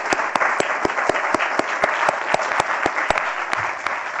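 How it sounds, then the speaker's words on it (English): Steady applause from an audience at a daylong meeting, with sharp regular claps rising above a dense wash of hands, continuing evenly throughout without talk. "please join me in concluding with a round of applause for the chair"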